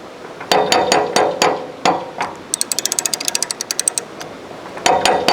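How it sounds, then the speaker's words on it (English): A canal lock paddle is wound up on its ratchet, giving loud metallic clicks: a few spaced clunks, then a fast even run of sharp pawl clicks, then more heavy clicks close by, with no talk. "So we're raising the paddle, bring it back on the ratchet"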